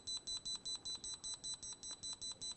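A handheld wall detector emits a steady train of short, even electronic beeps, about five per second, as it scans a concrete wall for hidden metal, PVC pipe and nails; the beeping sounds close and clear with no talk.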